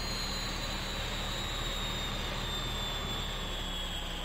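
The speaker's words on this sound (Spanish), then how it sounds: "Es lo que decía yo, que se escucha el helicóptero ahí" A helicopter flies in the video game Farming Simulator 2015, a constant droning engine and rotor whir that stays steady and fairly loud, with a faint high whine on top and no talking.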